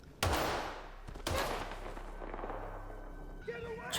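Two loud, sharp gunshots a second apart, each followed by a ringing echo that fades, with a brief muffled voice at the end.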